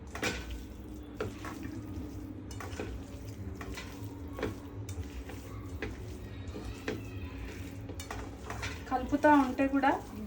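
A spoon stirring masala frying in ghee in a pan for chicken curry makes repeated close scraping strokes over a soft, continuous sizzle, and a voice briefly joins near the end.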